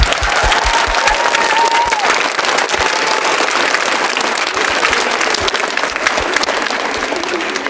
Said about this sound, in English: one more round of applause for Kira